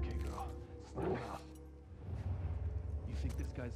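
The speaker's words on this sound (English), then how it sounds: "Hey, the dogs be a pain in the ass." Dogs barking in The Last of Us Part II, a few sharp yipping barks near the start and more toward the end, faint under someone talking.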